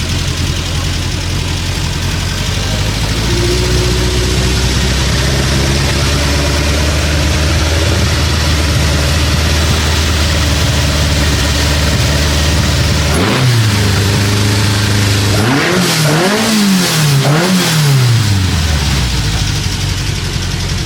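A classic car engine idles with a deep, steady rumble at a classic car show, then is revved several times in quick bursts near the end, loud and close.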